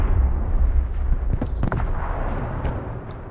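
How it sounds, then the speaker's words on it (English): Artillery in the Broken Arrow strategy game strikes a building: several heavy booming impacts land in quick succession around the middle, over a continuous low rumble that fades slowly. "Artillery at your command, sir. Let's give these guys a hand."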